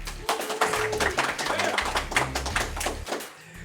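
Live studio audience clapping at a radio hot-takes show, dense steady applause sustained throughout, close and fairly loud with no talk over it.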